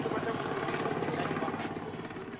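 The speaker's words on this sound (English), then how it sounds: "the choppers return to pick up the soldiers" Military helicopters with a rapid, steady rotor chop, continuous and fairly loud throughout, a hard churning drone in a 1979 Rhodesian bush war setting.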